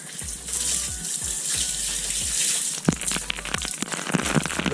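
Water runs steadily from a tap while hair is rinsed, a soft continuous hiss with splashes and patters growing busier toward the end, close by and with no talk.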